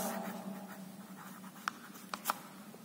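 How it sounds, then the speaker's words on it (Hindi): A marker writing on a classroom board, with soft squeaky strokes and a few sharper marks near the end, faint and close with no talk. "बोर्ड में किससे लिखती है, मार्कर से लिखती है"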